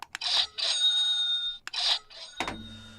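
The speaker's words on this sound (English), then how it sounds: "And there's the market bell." A stock market opening bell rings out, a sustained high metallic tone mixed with bursts of crowd noise and a sharp final clang that decays in a low resonant ring.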